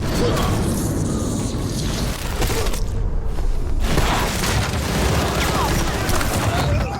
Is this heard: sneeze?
no